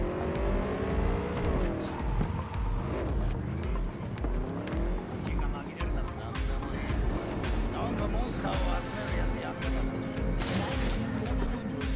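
A motorcycle drifts in Cyberpunk 2077, its engine revving and wailing in rising and falling sweeps with tire squeal and scraping, loud and close, while someone speaks over it.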